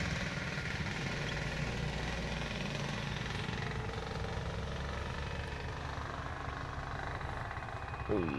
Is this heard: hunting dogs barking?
no